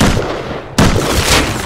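A single loud gunshot in the Rust survival game cracks at about the midpoint, a sharp broadband burst with a lingering tail, set against steady background noise and with no talking.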